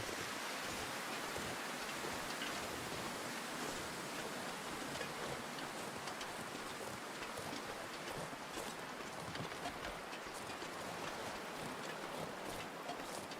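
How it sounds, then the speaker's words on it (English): A waterfall rushes in the survival video game The Long Dark, a continuous broadband hiss of falling water that holds steady and faint, with no voices. "There's a waterfall."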